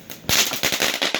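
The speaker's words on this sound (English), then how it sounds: "Yes, we got our fireworks." Fourth of July fireworks crackle in a rapid string of sharp, loud pops, like firecrackers going off close by in quick succession.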